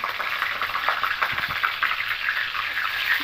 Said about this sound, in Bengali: এবার তেলে পাঁচফোড়ন দেব